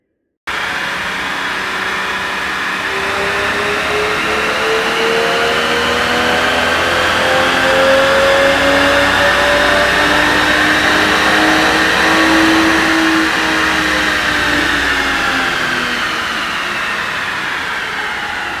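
A Lexus IS300 with a Toyota 2JZ-GE inline-six revs on a dyno during a steady power pull. The engine drone climbs in pitch, holds near the top and eases slightly, loud and continuous with no talk.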